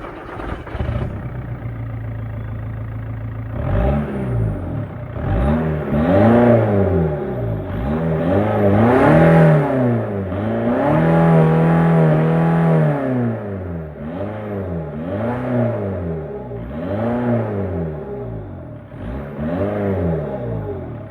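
A 2006 Volkswagen Golf Mk5 1.9 TDI diesel engine cranks on a failing starter motor and catches, then idles roughly and revs repeatedly in rising and falling surges, loud and close, no speech.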